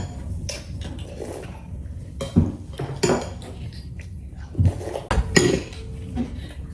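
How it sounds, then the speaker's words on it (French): Dishes being washed at home: pots, plates and cutlery clink and clatter in irregular bursts, close and fairly loud, with quiet pauses between. "C'est bien la vaisselle."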